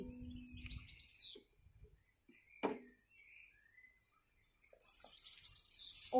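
Bird shrieking and chirping as a sound effect in a read-aloud story about a witch on a broomstick, several high tweets and calls spread over quiet stretches with a few soft clicks and whooshes.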